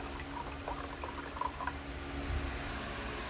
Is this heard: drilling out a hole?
no